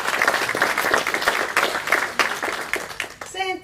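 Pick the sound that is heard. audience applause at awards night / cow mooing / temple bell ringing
audience applause at awards night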